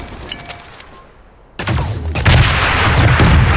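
Gunfire in the mech battle game Super Mecha Champions: a quiet lull, then sudden loud, dense bursts of shots and crashing impacts that keep going without pause.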